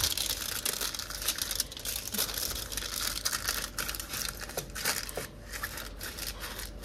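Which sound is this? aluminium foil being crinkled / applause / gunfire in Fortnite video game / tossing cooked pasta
aluminium foil being crinkled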